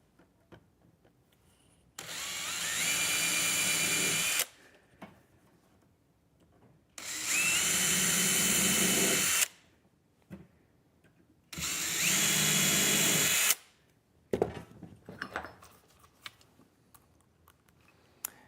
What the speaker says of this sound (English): We're going to pre-drill these holes.